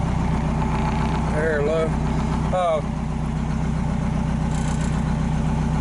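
Detroit Diesel engine idling steadily, a low throbbing mechanical drone that runs throughout while someone speaks briefly over it.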